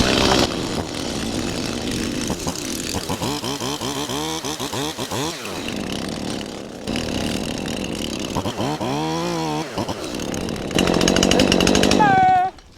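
A chainsaw felling a holly tree during outdoor property work in Wales, loud and close, its engine revving up and down in repeated bursts between cuts, with brief idling and a final high rev before stopping.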